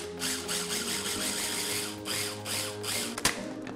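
A small food processor grinds spicy peach sauce into a smooth paste, its motor whirring loud and close in a continuous rough drone with slight pulsing surges.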